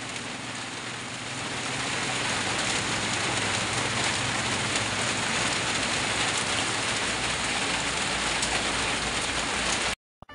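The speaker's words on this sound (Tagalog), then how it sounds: "Lakas talaga ng ulan eh." Heavy rain pours steadily in Butuan City in a dense, continuous roar that cuts off abruptly at the end.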